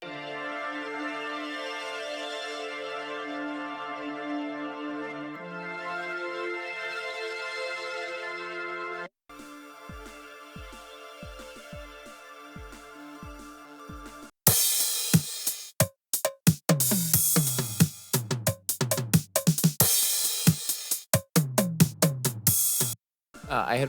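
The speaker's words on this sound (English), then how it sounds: "First thing I made was this chord progression." Synth chord progression played several times in a row, each copy through a different effect: first sustained pad chords, then choppy pulsing chords, then bright distorted stuttering versions, loud and without talk.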